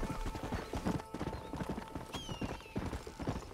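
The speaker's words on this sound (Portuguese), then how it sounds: "Os cavalos selvagens." Wild horses gallop in the Red Dead Redemption video game on Xbox One S, a dense, steady run of hoof clip-clops close by, with a brief whinny partway through.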